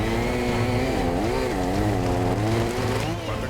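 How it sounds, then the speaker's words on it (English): A chainsaw cuts through logs in a forest, its loud, close engine droning steadily while the pitch rises and falls as the blade bites into the wood. "In this case, we're using a chainsaw."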